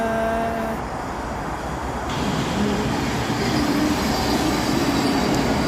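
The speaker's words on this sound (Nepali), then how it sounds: "अब हाम्रो ट्रेन स्टेसन आयो" A train rolls through Hillingdon station with a steady loud rumble of wheels on track, faint squeals and a rising roar as carriages pass close by, with no voices.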